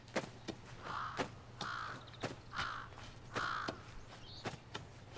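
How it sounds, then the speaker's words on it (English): A crow from the Demon Slayer anime caws repeatedly in a steady series of harsh calls, loud and close over a low background hum, with no speech. "We haven't heard from Tanjiro's crow in a while."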